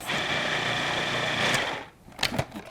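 A blender whirls a lemon sauce for Lebanese fish, a steady buzzing motor hum that runs loud for nearly two seconds, then stops, followed by a few brief clatters.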